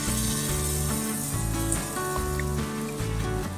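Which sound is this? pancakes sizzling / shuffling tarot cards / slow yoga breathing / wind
pancakes sizzling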